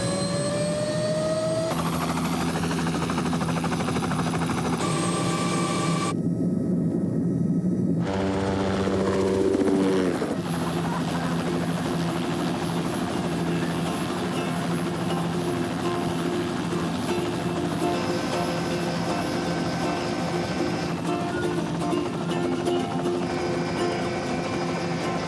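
Steady loud mechanical drone of a helicopter in flight over British Columbia throughout, with shifting whining tones and a brief change in pitch early on, no talking.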